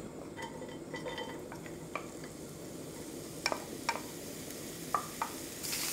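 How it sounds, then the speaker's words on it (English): Thinly sliced zucchini stir-fried quickly in a little oil, a steady low sizzle with utensil scrapes and scattered clinks against the pan, no voices. "I'm going to stir fry it very quickly with a little bit of oil"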